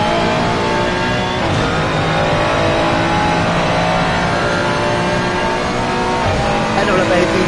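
A GT3 race car in a racing game accelerates hard onto the start-finish straight at Laguna Seca, its engine note dense and loud throughout, climbing steadily under a commentator's voice.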